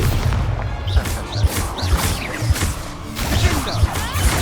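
Spell blasts from Hogwarts Legacy combat, a rapid series of punchy booms, crashes and whooshes layered with battle effects, loud and busy over several seconds.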